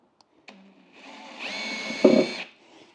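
Power drill boring a hole in plastic, a short close whirring burst that rises, grinds louder near the end and then stops, after a few faint clicks.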